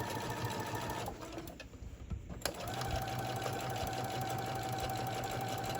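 A sewing machine stitches around the edge of a fabric iPad sleeve, its fast steady hum running close and loud, stopping for about a second and a half, then starting again.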